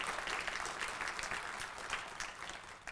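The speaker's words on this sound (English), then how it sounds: "One more round of applause for our mayor" Audience applause for Virginia Beach Mayor Bobby Dyer at a human rights awards ceremony, a steady, dense wash of many hands clapping throughout, moderately distant and with no voices over it.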